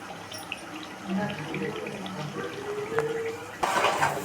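A teaspoon clinks against a pot as biryani masala goes into half-cooked chicken for chicken and prawn biryani: light metallic taps and scrapes up close over faint kitchen background noise.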